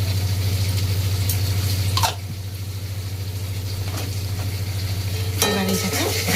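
Fish, egg and potato being stir-fried in a pan, with a steady loud sizzle and scraping of a spatula, a strong low hum running underneath and occasional clinks of utensils.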